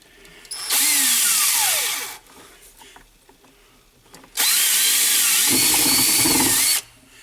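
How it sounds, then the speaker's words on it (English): A power drill with a large 17 mm bit bores through a part for a John Deere 6000-7000 buddy seat in two loud, sustained whirring runs separated by a quiet pause. "Drill through."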